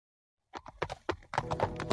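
Cartoon clip-clop sound effect of a horse walking, a rapid series of hollow hoof knocks starting after a brief silence, close and crisp.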